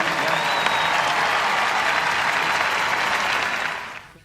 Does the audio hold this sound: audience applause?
yes